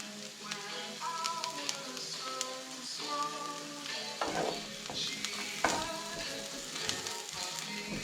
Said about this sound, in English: I'm going to chuck in now the green pepper. And the chilli.